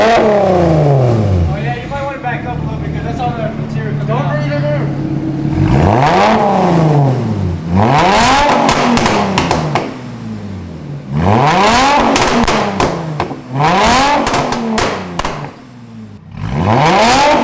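A Mercedes-Benz C300 4Matic engine with a modified exhaust revs repeatedly from idle, each blip a loud rising and falling roar with short gaps between, recorded up close.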